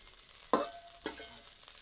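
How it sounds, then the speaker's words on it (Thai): Vegetables are stir-fried in a pan with rice water poured off from cooking rice, giving a faint steady sizzle with two soft scraping strokes of stirring close by. "เอา น้ำข้าวที่เราริน น้ำหม้อที่เราริน มาผัดผัก"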